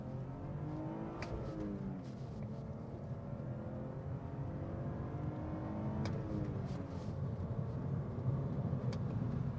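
BMW E46 325Ci coupe with its inline-six engine, a steady smooth drone with a gentle rise in revs, continuous and close throughout with no talk.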